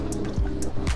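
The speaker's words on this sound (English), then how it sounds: "now we're just simply going to rinse that off with some clean water and a sponge" Clean water and a sponge rinsing cleaning product off the hull of a fifteen-year-old RIB boat: close, short splashes and wet swishes in quick bursts.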